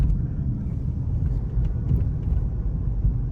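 A car driving along a road, heard from inside as a steady low rumble and road hum, continuous and close, with no talking.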